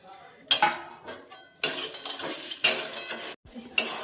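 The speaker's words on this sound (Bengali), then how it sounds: "তো দেখতেই পাচ্ছ চলে গেছে কড়াইতে বাদাম" Peanuts being stirred in a wok, heard as separate bursts of rattling, scraping clatter with short quiet gaps between strokes.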